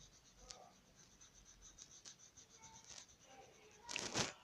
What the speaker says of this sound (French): Ici, vous allez colorier en gris.